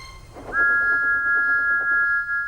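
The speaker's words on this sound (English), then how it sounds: "Thomas's whistle soon woke them up." Steam engine whistle from the Locos Online game sounds one long, loud, steady shriek held for about a second and a half over a soft chugging rumble, with no voices.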